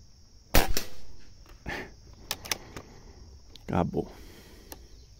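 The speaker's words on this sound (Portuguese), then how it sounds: "Acho que eu já dei uns uns oito disparos" Several sharp, isolated cracks ring out at irregular intervals, snappy air-rifle shots with quiet gaps between them.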